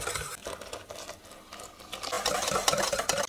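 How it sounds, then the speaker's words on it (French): Milk being stirred into egg yolks and sugar in a bowl while making custard for floating islands, heard as soft, irregular scraping and sloshing that grows a little busier toward the end, with no talk. "On va ajouter en deux fois notre lait sur les jaunes et le sucre, en remuant bien entre chaque ajout."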